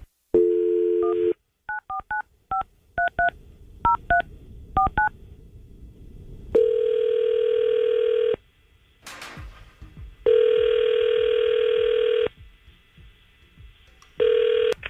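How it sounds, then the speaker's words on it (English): A burst of touch-tone beeps as a number is dialed, followed by several long ringback tones separated by pauses, clear and loud. "Let's try to call Maddie and see if we can get her on the phone"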